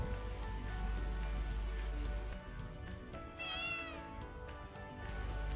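Kittens meow near an outdoor traditional palmyrah juice cooking spot, a couple of faint rising mews over a constant low hum and background noise.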